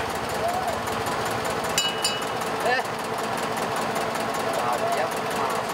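The engine of a small Bangladeshi fishing boat runs with a steady, throbbing drone and faint mechanical knocking, continuous and fairly close, with brief higher squeaks and rattles over it.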